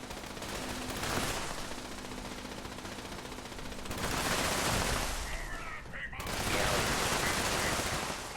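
Sustained bursts of automatic gunfire in Fallout 76 as turrets are shot down, loud and continuous with a brief lull around the middle before the firing resumes.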